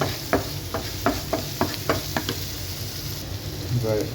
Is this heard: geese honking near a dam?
no